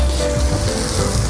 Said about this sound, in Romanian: Topim untul, adăugăm lămâia, zeama de lămâie, fără sâmburi.